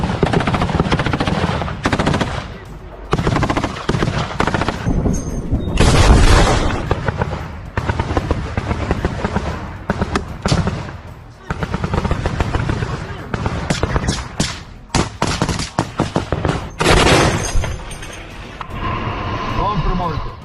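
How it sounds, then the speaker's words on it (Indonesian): Machine gun fire in combat during the Russia–Ukraine war comes in repeated rapid bursts with short gaps, loud and close, with booming impacts. Voices talk over and between the bursts. "Bedikan peluru mereka terbang ke segala arah, membuat tentara Rusia kewalahan dan tak dapat selamatkan diri."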